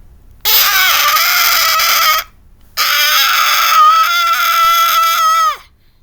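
A voice imitates the Mighty Eagle's battle cry from Angry Birds in two long, strained, screeching bursts separated by a short pause, loud and close.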